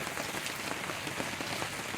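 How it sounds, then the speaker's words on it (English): Heavy rain pours down steadily at the edge of an ocean bluff, a dense constant hiss of drops hitting surfaces with no voices over it. "it is raining like a motherfucker. I got rain dumping,"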